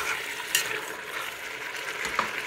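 Onion and garlic cook in a pot of meat for a peanut mafé sauce, giving a steady low frying hiss with a couple of sharp clicks from the pot, heard alone without voices.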